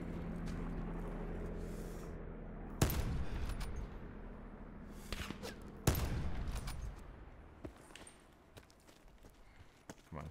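Gunfire in the Black Ops 4 Blackout battle royale, with two sharp, loud shots standing out amid scattered smaller cracks, faint footsteps and quieter ambient game noise in between.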